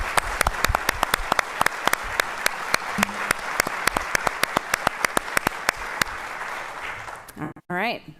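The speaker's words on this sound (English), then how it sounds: "right now we're asking for a round of applause for our candidates who've taken the time to meet with us today." Audience applause for congressional district 2 candidates at a 2024 debate: dense, steady clapping from a crowd lasting about seven seconds, then fading as a voice briefly starts.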